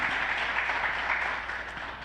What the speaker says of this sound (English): can we have a round of applause for our National Rapporteur and our Children's Advocate?